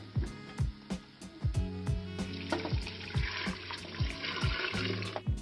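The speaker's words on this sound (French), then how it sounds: "on va ajouter l'eau tiède" Lukewarm water is poured into a cooking pot in a kitchen while Tikourbabine is being made. The pouring comes in irregular splashy bursts along with clinks and knocks from close by, and nobody speaks.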